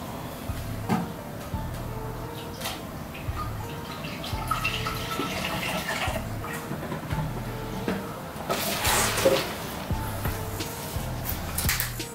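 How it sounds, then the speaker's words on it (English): Brake fluid poured from canisters into a Motive power bleeder for a Subaru with Brembo calipers, a soft trickling and gurgling of liquid close by, with intermittent plastic handling clunks. "Literally just gonna put two of the brake fluid canisters in that I showed you prior."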